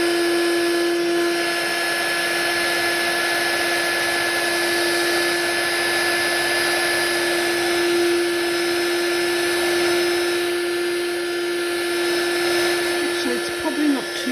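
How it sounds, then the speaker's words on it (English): A hot air gun blows steadily on a resin pendant, a constant loud whirring hiss with a high motor whine that holds unchanged for the whole stretch. "But I will just get my hot air gun and just blow it out."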